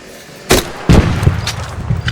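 Two sharp gunshots in the video game ARC Raiders, one after the other, each a loud burst with a short rumbling decay, followed by fainter thuds.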